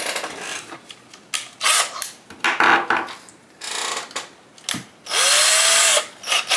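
A power drill boring into a sheet of HIPS high impact polystyrene, with short whirring bursts and a longer steady run near the end, amid close clatter and handling of tools and plastic.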